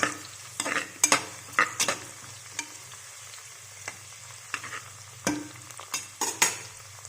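Onions and green chillies frying with ginger garlic paste in a pan, a quiet sizzle broken by irregular clinks and scrapes of a stirring spoon, close by and without speech.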